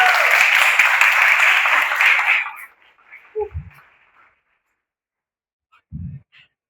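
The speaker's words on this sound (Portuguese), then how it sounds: "Salva de palmas para essa galera." Audience applause at a university sustainable gastronomy festival, steady crowd clapping for about two and a half seconds before cutting off, followed by near silence with a few faint bumps and murmurs.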